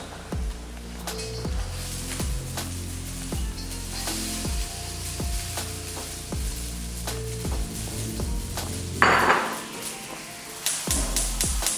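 Rice noodles for pad thai stirred and tossed in a hot pan on the stove, with repeated utensil clacks against the pan and a soft sizzle under them, followed by a brief burst of louder sizzling near the end.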